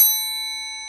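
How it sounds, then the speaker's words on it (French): A clean electronic notification ding rings once, bright and bell-like, then decays smoothly over about a second with no other sound. "on actionne la petite cloche"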